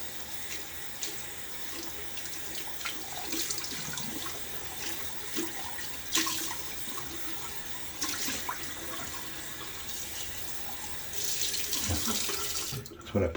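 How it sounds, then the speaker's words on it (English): A faucet runs steadily as a shave bowl is rinsed out under the stream, with splashing and shifting water sounds close by, ending with a brief stop near the end. "Rinsing out the shave bowl."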